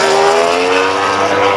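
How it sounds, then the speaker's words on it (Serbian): Racing motorcycles in an Asian MotoGP race scream past at full speed, a loud, sustained high-pitched engine howl with layered tonal whine filling the whole moment, close and overpowering, with no talk audible over it. "ja sebe ne čujem kad prođu motori"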